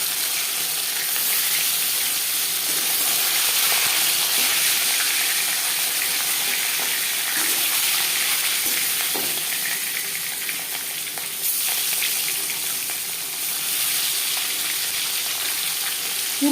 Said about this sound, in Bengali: পরিমাণ মতো রিফাইন্ড অয়েল গরম করে নিয়েছি এবার দিয়ে দেবো ম্যারিনেট করে রাখা মাছ